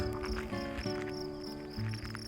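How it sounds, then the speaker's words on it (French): Crickets chirp steadily at night in a remote, quiet spot along the Camino de Santiago near Villar de Mazarife, Spain, their dense, continuous trilling filling the air with faint pulsing accents and no voices. "je vais pouvoir bien dormir au milieu des grillons"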